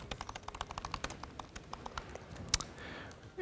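Quick, uneven clicks of someone typing on a computer keyboard, close by, with short bursts of keystrokes and a louder tap near the end.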